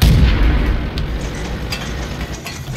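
An artillery gun fires in the Garry's Mod video game, a loud booming blast up front that rolls into a fading rumble.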